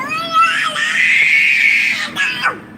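A small child screams loudly and close by during a fuss over wet laundry, one long piercing wail that holds for about two seconds before breaking into shorter sharp cries.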